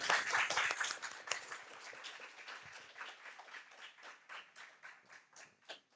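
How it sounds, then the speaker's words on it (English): Audience applause for a guest speaker at a college literary society session, a dense burst of many hands clapping that thins into scattered, rhythmic claps as it fades over several seconds, with no talk. "Let's give a huge round of applause for Sir."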